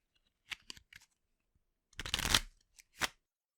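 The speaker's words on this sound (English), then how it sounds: "First, I'll have you shuffle the deck." A deck of tarot cards being shuffled at close range, a few quick riffling bursts separated by short pauses, with one longer dense shuffle in the middle, and no voices.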